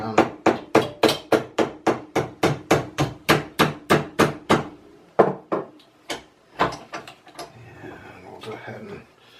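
Hammer blows on a metal flaperon nose rib for a Zenith Cruzer aircraft come in a fast, steady series of about twenty sharp strikes, then turn slower and irregular with lighter taps.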